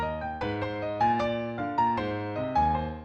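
Piano plays a salsa-style montuno with a tumbao bass line doubled in octaves, steady syncopated chords repeating over about three seconds, solo and clear.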